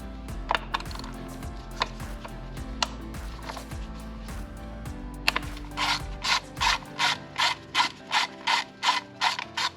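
A hand ratchet loosens a screw during a basic car tune-up, giving scattered clicking pawl ticks at first, then a fast, even run of loud ratcheting clicks near the end, close up and without talking.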